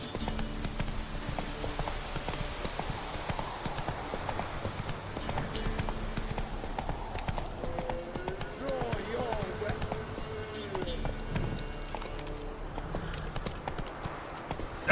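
Horse hooves clip-clop steadily in The Witcher 3 as a horse travels along, with a rhythmic beat over game music and ambient sound, with a voice talking over it.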